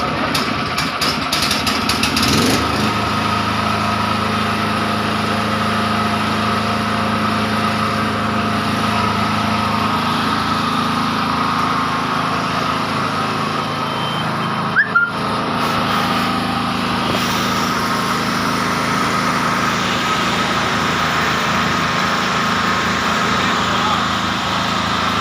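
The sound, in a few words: 10 kVA POWERREKO portable generator engine running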